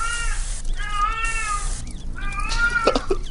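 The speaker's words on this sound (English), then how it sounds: "Why are there so many cats in this place?" Several cats meow loudly and close, in three drawn-out wailing calls one after another, with a few shorter sounds at the end.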